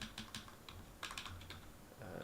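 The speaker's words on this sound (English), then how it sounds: "Let me type that for you." Quiet typing on a computer keyboard, with short bursts of key clicks that come in uneven clusters and small pauses between them, heard softly and alone.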